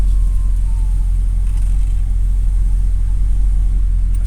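A 1987 GMC 1500 Sierra Classic Suburban cruising through a neighborhood, heard from inside as a loud, steady low engine and road rumble that holds evenly without pauses.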